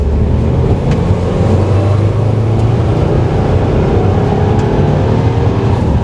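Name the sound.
2020 Subaru WRX accelerating in third gear to 60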